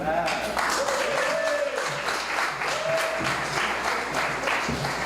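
An audience applauds steadily at an awards ceremony for a community after-school enrichment team in Trinidad, while a voice speaks over the clapping.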